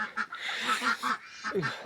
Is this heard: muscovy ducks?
yes